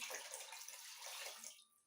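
Warm water is poured steadily into a container to make homemade grape wine, a close, continuous splashing rush that tapers off at the end.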